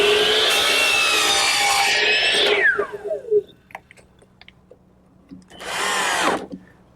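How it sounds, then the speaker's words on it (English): Wood is cut in a miter box held by a jig, first with a loud, close burst of sawing that winds down with a descending whine, then a few light knocks before a second short cutting burst. "I can actually use my miter box if I make a jig"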